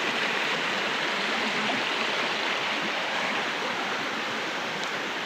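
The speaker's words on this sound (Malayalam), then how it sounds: "ഇത് നല്ല തോട്, ഞങ്ങളെ വീട്ടിൻ്റെ സൈഡിലെ കൂടെയുള്ള തോടും വെള്ളവും ഇതൊക്കെയാണ്" Broadband rushing water from a stream flowing right beside a house, a dense, even and loud roar that holds steady throughout with no voices.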